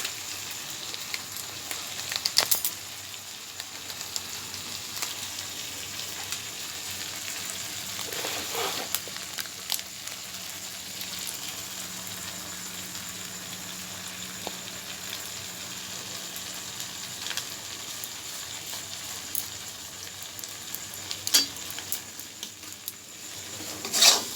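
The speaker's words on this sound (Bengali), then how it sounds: "এটাকে একটু আর একটু লাল লাল করে একটু ভেজে নিই" Food frying in a pan at home, cooked until reddish for an egg curry and okra-potato fry meal; a soft, steady sizzle runs throughout at low level, with a few faint clicks and knocks and no talking.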